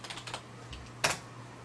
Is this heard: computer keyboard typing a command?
yes